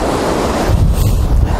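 Sea waves wash onto a winter beach at Katsiveli, Crimea, a steady roar of surf with gusts of wind buffeting the microphone, with one wave swelling louder near the end.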